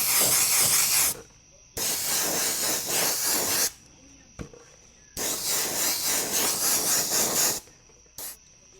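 Aerosol spray paint misting neon pink onto an RC truck body, a Pro-Line Silverado shell for an ARRMA Mojave Grom, in several close hissing bursts of one to two seconds separated by short pauses.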